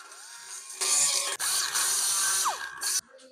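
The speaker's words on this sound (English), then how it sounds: "grab my AIRCAT straight mini die grinder and grind the inside of all the square holes" An AIRCAT straight mini pneumatic die grinder grinding chrome from inside square bolt holes on a classic car bumper, in two short, loud, high-pitched whining bursts close up, with brief dips in speed.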